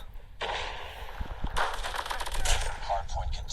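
An XPR rifle fires in Call of Duty Mobile with a burst of sharp, rapid game gunshots following an opening report, loud and dense, with a voice faintly underneath.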